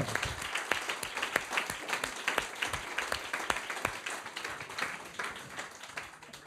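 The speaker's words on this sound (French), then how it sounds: "on va pouvoir applaudir à Dialogue pour ce magnifique prix" An audience at a French literary event applauds the Dialogue award, steady moderate clapping from a crowd with distinct individual claps standing out, continuing evenly throughout.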